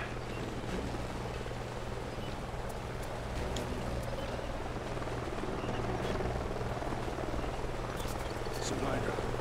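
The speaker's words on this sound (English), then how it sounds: "Sounds like a chopper's up ahead of us." Continuous thudding rotor drone of a helicopter in the Call of Duty: Ghosts campaign, a dense, loud wash of noise holding steady throughout among canyon terrain, with faint sharper sounds scattered over it.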